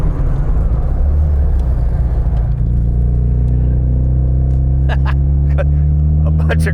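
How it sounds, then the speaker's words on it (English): Supercharged JET Motors remastered Mini Cooper accelerating down the road, a loud close engine roar that settles into a strong rising harmonic whine, with brief sharp noises near the end. "I like that supercharger. It makes really good noises, and boy, does it pull this little car down the road."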